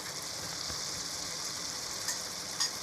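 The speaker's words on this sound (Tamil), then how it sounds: "நல்லா தயிர் ஊற்றி ரெண்டு கிண்டு நல்லா கிண்டி விடுங்க" Chicken curry is stirred in a pot after yogurt goes in, giving a steady, close frying hiss with a couple of faint clicks from the spoon near the end.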